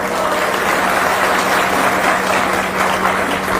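A large crowd claps and cheers at a political rally for a BSP speech, a dense, loud, continuous wash of applause with no voices standing out.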